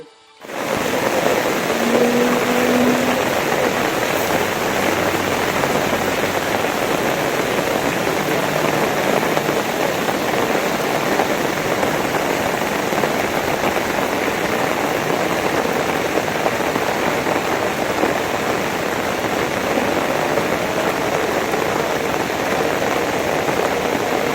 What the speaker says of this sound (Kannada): ಕಾರವಾರ ನಗರ ಸೇರಿದಂತೆ ತಾಲೂಕಿನಾದ್ಯಂತ ಭಾರೀ ಮಳೆ ಮತ್ತೆ ಮುಂದುವರೆದಿದೆ